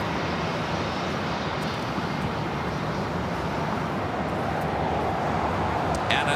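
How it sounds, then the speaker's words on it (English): Delta Airlines Airbus A321 airliner holding to cross runway 25 Right at LAX, its engines giving a steady broadband roar with no talk over it. "Delta A321 also waiting to cross over 25 right, coming from New Orleans"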